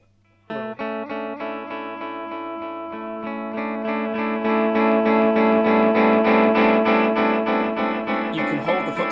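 Guitar played through a Boss DD-8 delay pedal in warp mode: a chord is struck and its repeats build into a swelling, sustained wash of echoes that grows louder and denser before trailing off, with no talking.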